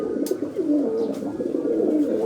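Several pigeons coo continuously up close, low soft rolling calls overlapping one another, with a few faint rustles and flutters in the background.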